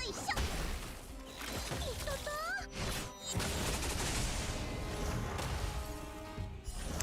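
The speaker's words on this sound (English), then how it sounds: "Why does Hanabi's kick sound like it's a fucking gunshot?" Hanabi's kick in Honkai: Star Rail landing with a loud gunshot-like crack, part of a dense burst of combat impacts, smashes and effects amid game music.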